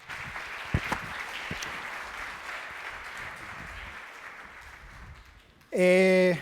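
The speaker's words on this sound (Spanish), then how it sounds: "Un aplauso para ellos, por favor." An audience at an investment strategy conference gives fairly quiet, diffuse applause that fades gradually, cut off near the end by a brief loud tonal sound.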